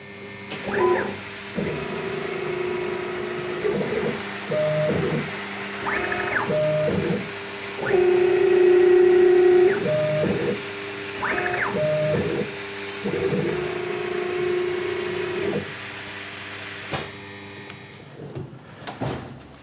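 A CNC machine spindle whirs steadily at high pitch at 6,000 RPM, running a carbide spotting drill on a sheet metal bracket, with a cutting tone rising and falling in repeated short passes before it winds down.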